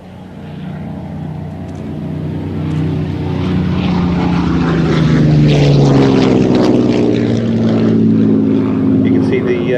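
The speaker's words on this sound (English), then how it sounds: "This particular Spitfire, a Mark 5B, was built at Castle Bromwich in August 1941." A Spitfire Mark 5B propeller fighter, built at Castle Bromwich in 1941, flies past, its engine drone swelling louder and shifting in pitch over several seconds while a commentator talks over it.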